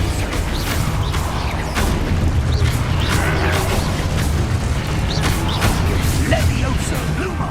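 Confringo fire spells explode in the video game Hogwarts Legacy, a dense run of booming blasts and crackling magical bursts with a loud, continuous battle din, while a voice calls out spells over it.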